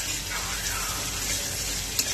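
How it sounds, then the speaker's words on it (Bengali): Grated ginger and garlic frying in a pan, a steady broad sizzle running evenly throughout with a small clink near the end, no talking. "এবার এটা একটু ভেজে নেব"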